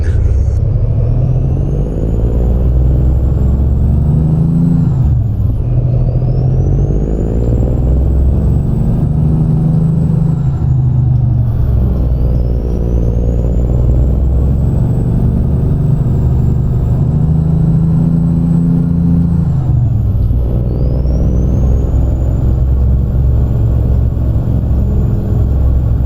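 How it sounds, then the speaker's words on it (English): A 525 horsepower Cummins N14 truck engine with an 18-speed transmission runs steadily in American Truck Simulator, a loud continuous diesel rumble that climbs and drops in pitch through gear shifts, with no talking over it. "underneath the hood today, we have a 525 horsepower Cummins N14 and an 18-speed transmission"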